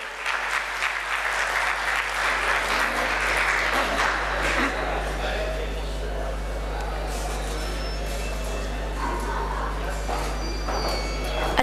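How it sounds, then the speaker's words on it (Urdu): Dense, sustained clapping from a poetry-gathering audience at an international mushaira in Sangla Hill welcomes a woman poet from Sheikhupura, filling the hall loudly over a steady low electrical hum. "اپنی بھرپور تالیوں سے استقبال کیجیے."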